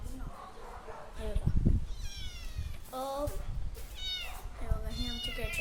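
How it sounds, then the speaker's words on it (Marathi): A female pet cat meows several times in drawn-out, rising calls, close by and fairly loud, while a person talks in between. "बघा हे आमची कॅट आहे."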